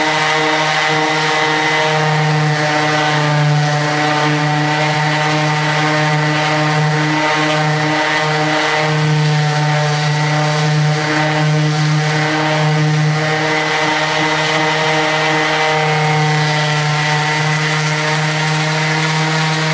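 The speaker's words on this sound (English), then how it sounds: "So we're just going to sand this flat." A power sander works an arcade cabinet surface flat, a loud steady droning whine running without a break and close by throughout.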